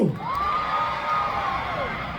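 A concert crowd of Filipino fans at an outdoor Taste of Manila show shouts and cheers in a sustained roar, with a high whoop rising over the massed voices.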